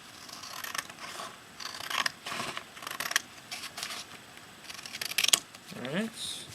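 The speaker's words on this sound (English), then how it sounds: "Me cutting paper" Scissors snip through small sheets of paper being cut into quarter pieces for a basketball draft lottery, a series of short crisp cuts scattered across the clip at close range, with some rustling and faint voice activity between them.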